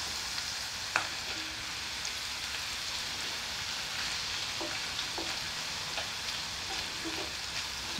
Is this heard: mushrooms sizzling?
yes